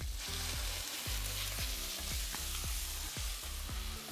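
Dark yellow Kerrygold butter sizzles on a Pit Boss griddle, ready for thinly shaved ribeye: a constant hiss with a regular low thumping pulse repeating about twice a second in the background, no voices.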